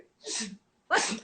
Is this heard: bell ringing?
no